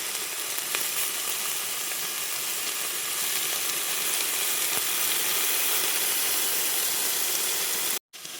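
Chicken gizzard masala with soy sauce sizzling in a hot pan, a steady bright hiss and crackle throughout, close and even, cutting out abruptly near the end before resuming.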